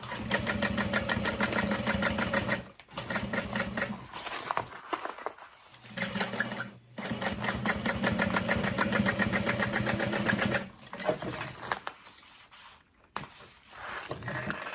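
A sewing machine runs steadily up close while top stitching the exterior of a cross-body sling bag, with a continuous rapid mechanical whir broken by a few brief pauses.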